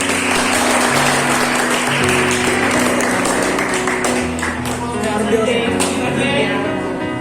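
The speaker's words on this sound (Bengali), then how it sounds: "সঠিক হয়েছে, সবাই একটু তালি হবে।" Students in a class 9 mathematics lesson clap together, a busy patter of many hands over a low steady hum, with faint voices mixed in.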